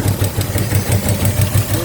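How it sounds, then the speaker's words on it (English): A 1976 Ford F-150 engine with one stuck valve idles close up, its low, steady thumping pulses repeating evenly through the whole stretch. "Alright, she's idling."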